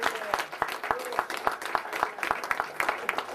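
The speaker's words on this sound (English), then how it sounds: "You give him a round of applause." Audience members at a lecture clap for a speaker, a loose round of distinct, fairly close hand claps in an irregular rhythm, moderately loud with no talking over it.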